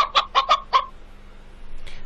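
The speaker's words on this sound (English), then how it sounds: "It's the big red chicken." The big red chicken in a Dora the Explorer video game clucks in five quick, close, loud bursts, then falls silent apart from faint background noise.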